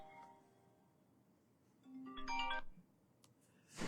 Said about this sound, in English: Something's ringing.